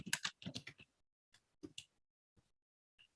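A short burst of typing on a computer keyboard, several quick close clicks followed by a few scattered single keystrokes, quiet and alone.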